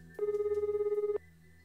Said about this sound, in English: I took out my phone to make a call.